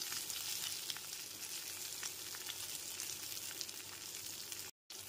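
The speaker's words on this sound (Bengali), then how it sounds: "গ্যাসের ফ্লেমটা লো টু মিডিয়ামে রেখে সমস্ত পটলের টুকরোগুলোকে ভেজে নেব।" Pieces of pointed gourd (potol) frying in oil over a low-to-medium gas flame, a steady close sizzle that runs unbroken apart from a brief dropout near the end, with no talking.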